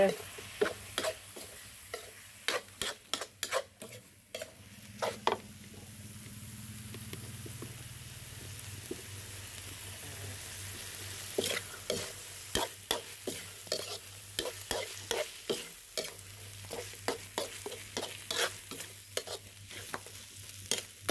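Field catfish being stir-fried with southern Thai curry paste gives a continuous sizzle under frequent sharp metallic scrapes and clicks of a spatula against the pan, busiest in the second half.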